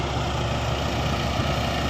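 A steady, loud engine drone of a borehole well drilling rig runs without a break, a low rumbling mechanical hum close by with no pauses or voices.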